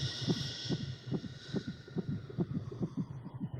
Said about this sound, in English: Some of the heartbeat was the real recordings from made on with the microphone on my wife's pregnant belly.